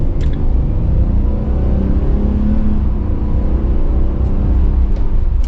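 A 2020 Ram 3500 ProMaster 159-inch extended cargo van accelerating, heard from inside as a loud, steady low engine and road rumble that holds constant without distinct gear changes.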